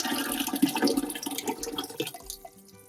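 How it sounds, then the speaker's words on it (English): Tomato puree pours into a pot of cooked onions and garlic with a thick, wet sloshing and splattering that trails off after a couple of seconds, close and moderately quiet. "the first batch of tomato puree is going in the pot"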